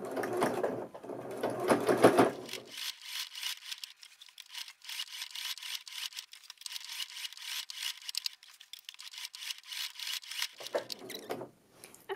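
A sewing machine runs in a long steady buzzing burst while topstitching along the edge of a dress pocket, with brief pauses at the start and end, close and clear, and no voices.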